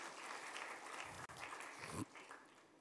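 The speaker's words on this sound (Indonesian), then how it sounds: "Yang setuju berikan tepuk tangan yang meriah buat Tuhan." Church congregation giving lively applause, a moderately quiet, dense clatter of clapping lasting under three seconds with a couple of brief low thumps partway through.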